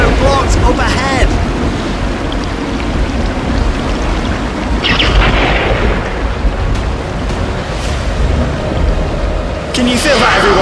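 Avalanche of melting snow in Planet Coaster rumbles as a dense, loud, continuous roar with deep low rolling and occasional hissing swells, someone talking over it.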